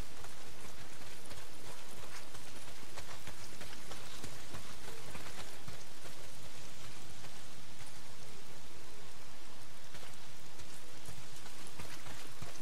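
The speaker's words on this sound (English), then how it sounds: "A lot of it's pissing down rain." Heavy rain pours down steadily in the open-world zombie game Days Gone, a dense continuous hiss with scattered patters across the whole stretch and no talk over it.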